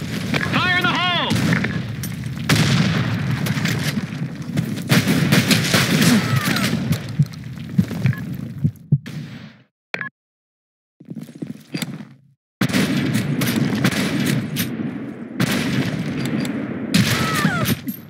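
Cannons fire repeatedly during a pirate video game battle, a long stretch of loud booming volleys and crackling blasts, broken by a brief quiet gap before the barrage resumes.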